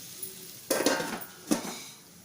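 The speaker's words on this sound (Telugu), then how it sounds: "ఇప్పుడు ఒక ఐదు నిమిషాలు మూత పెడుతున్నా" A metal lid set down on a pan of frying chicken with green chillies, giving two clattering clinks about a second apart over a low background hiss.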